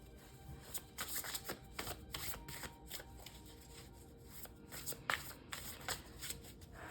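Oracle cards being shuffled by hand in a quiet room, a continuous run of soft rapid riffling flutters with repeated sharper snaps, close but faint, with no talking.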